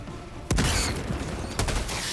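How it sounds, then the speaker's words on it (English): A grenade blast and gunfire erupt in Helldivers 2, two sharp loud impacts about a second apart over a busy, noisy battle backdrop. "Throwing grenade!"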